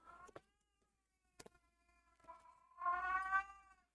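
A pet cat named Beastie meows indoors, with a few short chirps and thumps early on and then a longer, louder, drawn-out meow near the end, heard alone and close.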